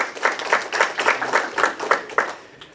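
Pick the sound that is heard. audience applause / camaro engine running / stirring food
audience applause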